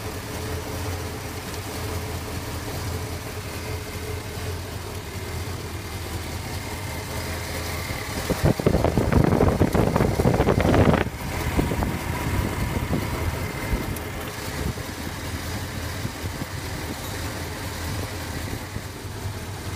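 A 1985 Zimmer car engine idles evenly after its ignition timing is set. The low steady running is heard up close, with a louder burst of rattling and hissing for a few seconds in the middle.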